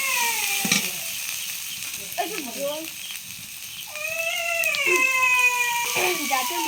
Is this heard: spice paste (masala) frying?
yes